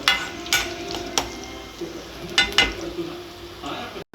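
Egg bhurji ingredients fry in a hot pan before onions go in, a steady low sizzle with a few sharp clinks of a utensil against the pan, close and clear, with no talking.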